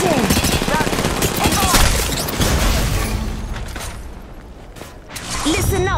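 Rapid automatic gunfire and explosions in the Apex Legends battle royale video game, loud and continuous bursts with mechanical clanks and a brief lull before the shooting resumes.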